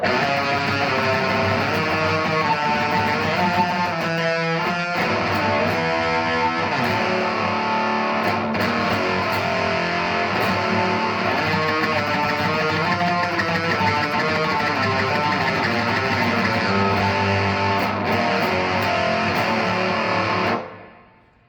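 Loud, heavily distorted electric guitar through a Behringer HM300 pedal with the mids turned all the way up, a buzzy, mid-heavy tone, chords ringing and sustaining continuously before cutting off at the end.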